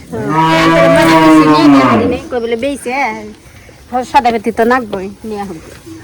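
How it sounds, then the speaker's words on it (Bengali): A cow lets out one long, loud moo close by, followed by someone talking. "এই যে আমার প্রথম গরু, মানে প্রথম পালের গরু।"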